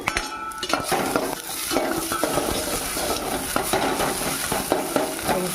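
Chopped onion, coriander and mint sautéing in a pan, with steady loud sizzling and frequent stirring and scraping of a utensil throughout, close by.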